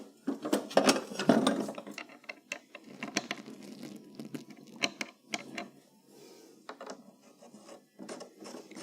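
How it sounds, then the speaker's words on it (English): A ratcheting tap re-cuts M10 1.5 threads in a car manifold in a garage, giving a series of close, uneven metallic ratchet clicks and small scraping sounds in short bursts. "I'm going to re-tap the threads in the actual manifold."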